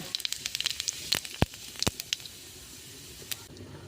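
Dry red chillies and cumin seeds tempering in hot oil in a pan, a quiet crackle of sharp pops and sizzles that is busy at first and then thins out toward the end.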